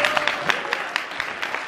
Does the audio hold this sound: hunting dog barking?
no